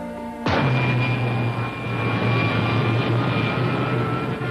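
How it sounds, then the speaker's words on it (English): Rocket ship jets fire in a 1953 sci-fi serial: a sudden ignition bursts into a loud, sustained roaring rush with a steady low hum underneath, continuing without break. "Firing main jets."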